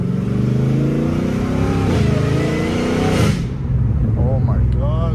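A catless Dodge Challenger Hellcat Redeye engine roars loudly and close, holding a deep, rough drone with rising revs before dropping off, while a voice talks over the end.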